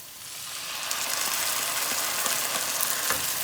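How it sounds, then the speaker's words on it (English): Tomato puree hits a hot frying masala in a pan, producing a loud, steady hiss of sizzling with faint scraping from stirring, close by and without any talk. "So I'm going to add tomato puree."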